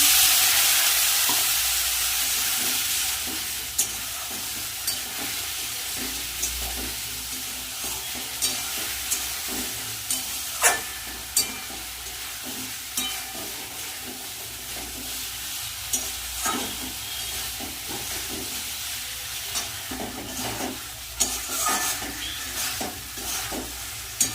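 Spice paste sizzles steadily as it fries in a pan, with repeated scrapes and taps of a spoon stirring it at an uneven rhythm, close and clear with no talking.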